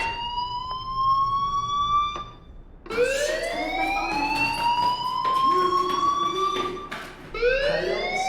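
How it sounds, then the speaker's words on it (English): A fire alarm wails in the video game Life is Strange, its electronic siren tone sweeping upward in repeated rising cycles, loud and steady throughout, with a brief dip before each new sweep. "do you hear that fire alarm? That means you should be outside."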